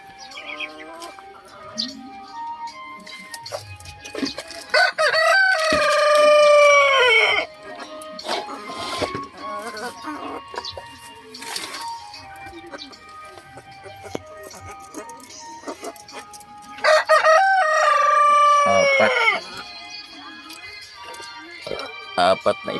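Silkie chickens in a backyard cluck intermittently, with two loud, drawn-out rooster crows rising above the clucking, while a person talks in between.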